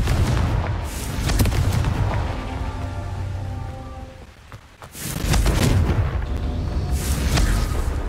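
Confringo fire spell blasts in Hogwarts Legacy, loud close booming bursts with a rushing, crackling roar, a brief lull midway before another heavy blast swells back, with no talking.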